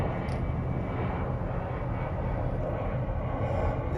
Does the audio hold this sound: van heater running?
yes